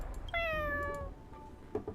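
A single drawn-out cat meow in the video game Honkai Star Rail, clear and close, rising then sliding down, with faint background game ambience and a couple of soft clicks afterward.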